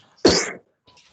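A single short, sharp burst like a sneeze, loud and close, followed by quiet.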